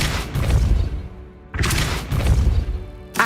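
Depulso spell effects from Hogwarts Legacy burst out as forceful whooshing blasts, a heavy rumbling surge, a sharp cutoff, then another strong blast and a third beginning at the end.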